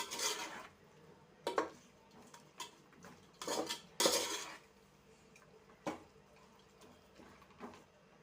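A metal spoon clanks and scrapes against a pot while chicken leg pieces are stirred in oil, producing irregular knocks and scraping bursts with quiet gaps between them.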